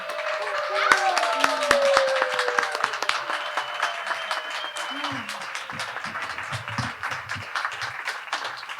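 Attendees at a psychedelic symposium give a round of applause, sustained clapping from a sizable crowd with crisp close claps, while voices talk over it and the clapping thins toward the end.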